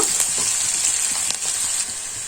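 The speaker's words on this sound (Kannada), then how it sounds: "ಈರುಳ್ಳಿನ ಚೆನ್ನಾಗಿ ಫ್ರೈ ಮಾಡ್ಕೊಳ್ಳೋಣ" Onions frying in a pan for foxtail millet fenugreek bath, a steady, loud, close hiss of sizzling oil with faint stirring ticks underneath, no voices.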